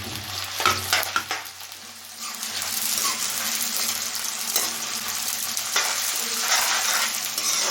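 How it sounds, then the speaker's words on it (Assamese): Finely chopped onions hit hot oil in a pan and sizzle loudly at first, then settle into a steady, crackling fry with occasional stirring scrapes. "আৰু এতিয়া তেল পকি গ'ল, পিঁয়াজখিনি দি দিওঁ"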